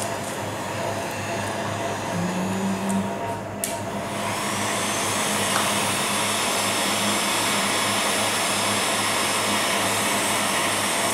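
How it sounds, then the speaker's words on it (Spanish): A hair dryer blows with a constant whirring hum, steady and fairly close, running the whole time without voices. "Una secadora de pelo, Raúl."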